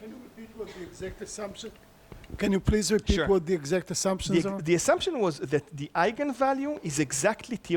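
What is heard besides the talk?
No distinct noise like a dog, phone or traffic.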